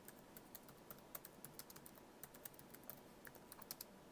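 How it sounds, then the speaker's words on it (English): Fast, steady keystrokes on a computer keyboard while typing in Notepad, quiet and close, with irregular clicks and no talking. "let's type something in Notepad"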